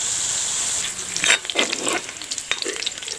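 Potatoes fry in a pan with a bright, close sizzle, joined by a few spatula scrapes as they are stirred.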